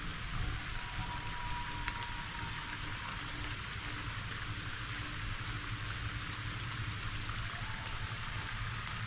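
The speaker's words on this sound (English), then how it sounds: "Looks as though the rain is coming in again." Steady, dense rain falling on surfaces beside a lake, a constant close hiss that continues without break.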